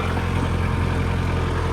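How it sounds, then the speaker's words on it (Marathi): A farm tractor runs in a field with its engine chugging steadily at a low idle. The engine sounds loud and close, with a constant rumble and no voices over it. "हे बघा, ट्रॅक्टर चालू आहे या ठिकाणी"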